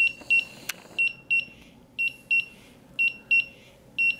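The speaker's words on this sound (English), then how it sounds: "The meter should go into alarm." A gas detector meter sounds its alarm during a bump test, with a close, loud electronic beep repeating in quick double pulses about once a second, steady and unbroken, with no speech.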